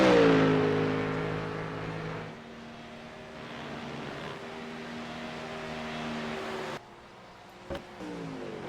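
GT3 race cars in a sim racing game cross the finish line at the Red Bull Ring, with a loud engine whine that falls in pitch and then fades, followed by quieter engine drones and a short click.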